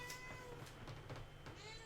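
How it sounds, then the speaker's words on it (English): A noisy cat meows in a few short, close calls over a steady low hum in a home kitchen. "this is this noisy kitty"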